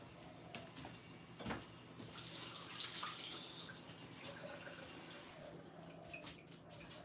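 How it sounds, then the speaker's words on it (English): Tap running as hands are washed under it, a faint splashing water rush that swells in the middle and then continues softly. "Let me wash my hands."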